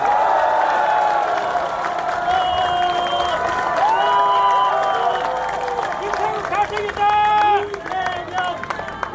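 Crowd applause and cheering for a politician at a Democratic Party campaign rally in North Jeonbuk, loud and sustained across the whole stretch, with shouts and a speaker's amplified voice over the clapping.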